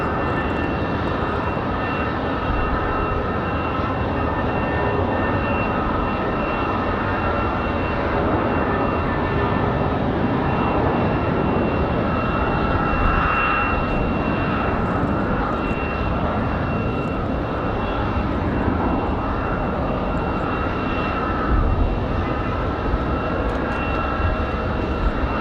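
United Airlines jet airliner on the move at Raleigh-Durham International on a windy day, its engines a steady, loud, broadband roar that holds evenly throughout with slight swells, no talk over it.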